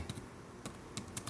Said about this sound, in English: you type your message. So I'll type